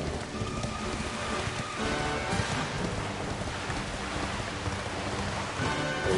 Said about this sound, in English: A rainy world.